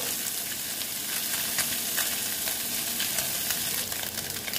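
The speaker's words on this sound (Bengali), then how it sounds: "মাছ ভাজা প্রায় হয়ে গেছে" Close, continuous crackling sizzle of mourola fish frying in hot oil, steady and busy throughout with no voices.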